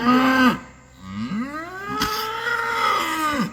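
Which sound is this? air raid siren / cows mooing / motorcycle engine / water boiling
cows mooing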